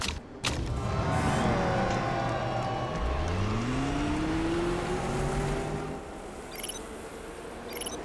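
Race cars heading out for practice in the Motorsport Manager video game, a steady engine drone joined midway by a rising, revving engine pitch that climbs and holds before fading to quieter background hum.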